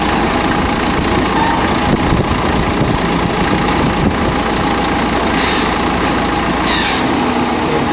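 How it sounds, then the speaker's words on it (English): A forklift engine reversing while unloading bundles of Honka logs, a steady loud mid-range drone that stays close and constant, with a couple of brief hissing bursts near the end. "Now the forklift operator's got to reverse."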